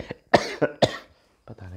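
Several sharp coughs in a row, close and fairly loud, with short pauses between them, during a Hindi vocabulary lesson; a brief bit of a man's speech follows at the end.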